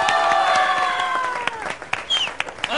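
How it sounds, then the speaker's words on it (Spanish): Audience applause and cheering for the comedian Negro Mama on a Peruvian comedy show: a brief crowd roar under music with sustained tones, breaking into scattered claps near the end. "señores, el aplauso para Mama"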